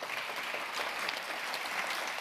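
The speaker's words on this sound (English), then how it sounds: "Big round of applause for Matteo." Steady, dense applause from an audience at a Global World Food Day ceremony held at FAO, continuous and fairly close, with no talk over it.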